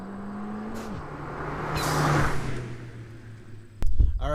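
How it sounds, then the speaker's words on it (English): Ford Fiesta ST fitted with a Turbosmart blow-off valve passing by in second gear, the engine rising and fading, then a sharp loud whoosh of the valve venting near the end. "there was a quick little drive-by blow-off valve noises for you"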